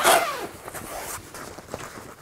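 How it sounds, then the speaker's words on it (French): A zipper on packaging being pulled open in a few short rasping strokes, close and fairly loud, with soft handling rustles between them. "moi je suis maudit avec les fermetures éclair"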